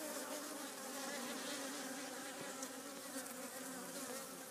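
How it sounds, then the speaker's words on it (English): Leaf cutter bees buzz continuously nearby around a hive, a steady droning hum with small shifts in pitch as they move about. "Those are leaf cutter bees."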